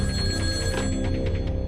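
A telephone bell rings steadily, loud and close, a continuous electronic trill of stacked tones with no voices over it.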